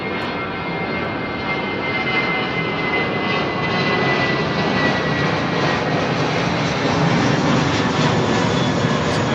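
A brand-new All Nippon Airways Boeing 777-300 jet at London Heathrow, a loud, sustained broadband engine roar that swells slightly as it passes close by.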